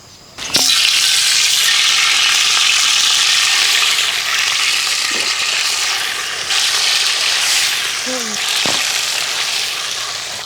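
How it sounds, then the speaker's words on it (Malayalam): Masala-coated pearl spot fish (karimeen) hits hot coconut oil with a sudden loud crackle, then a steady close sizzle with faint pops and a couple of utensil knocks. "നല്ല വെളിച്ചെണ്ണ നല്ല ചൂടായിട്ടുണ്ട് നമുക്ക് മസാല തേച്ച് വെച്ചേക്കുന്ന കരിമീൻ അതിലോട്ട് ഇട്ട് കൊടുക്കാം"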